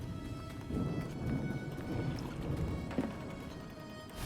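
Video game rain and storm ambience: a steady wash of rainfall with soft low rumbling and occasional louder patters, no talking.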